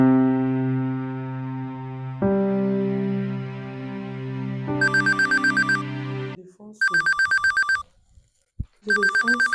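A telephone rings in repeated electronic bursts, loud and close, following a sustained musical tone, with brief gaps of silence between the ringtone pulses and no talk over it.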